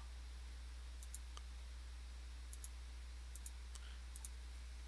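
Sparse clicks of computer keys being typed as a command is entered, a handful of faint, separate taps over a steady low hum in a quiet room.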